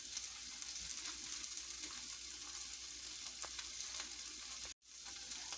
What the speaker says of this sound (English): the goal here is not to get them done. It's just to sear them on both sides